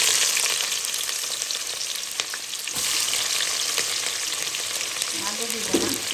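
Onion frying in hot oil for a goat meat curry, a loud continuous close sizzle with brief stirring scrapes and a faint voice near the end.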